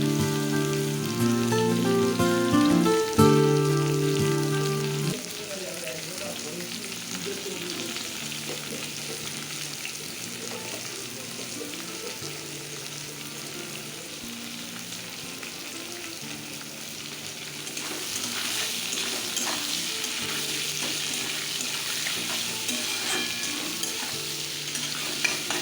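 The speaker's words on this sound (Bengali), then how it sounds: "পেঁয়াজটা ভাজা লাল লাল হয়ে গেছে" Chopped onions fry in hot oil while being stirred, a loud, continuous sizzle close up with scraping stirs throughout. Tonal sounds sit over the first few seconds, and the frying grows brighter near the end.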